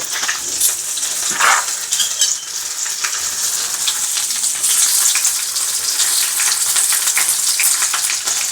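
Green chillies and panch phoron (five-spice) sizzle steadily in hot oil for a Bengali soybean and potato dish, with a constant crackling hiss and occasional light clinks from stirring.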